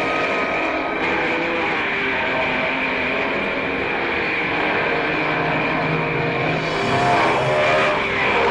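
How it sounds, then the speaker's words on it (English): Racing cars at the 1955 Argentine Grand Prix power through the opening lap, engines roaring loudly and continuously over crowd and track noise, swelling as cars pass close. "Moss makes a great start from row 3 to be in 4th place behind Fangio, Ascari and Gonzalez as they power through the opening lap"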